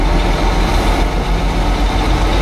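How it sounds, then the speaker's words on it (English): A heavy truck weighing about 29,800 pounds with full fuel tanks pulls away in fourth gear, giving a loud, steady low diesel rumble that holds without a break throughout. "I can start off in fourth gear."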